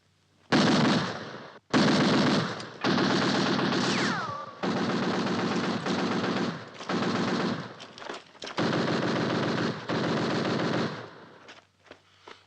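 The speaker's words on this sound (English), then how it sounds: "Fire a few rounds." Bursts of automatic gunfire in a WWII battle scene set at El Alamein in North Africa, loud and close, with several long rattling strings of rounds separated by short pauses.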